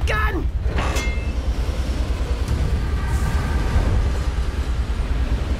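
A cartoon train rumbles along steadily with a low rolling clatter, while brief voices and shouts break in near the start.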